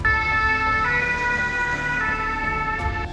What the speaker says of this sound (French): nous engageons systématiquement une ambulance de sapeurs-pompiers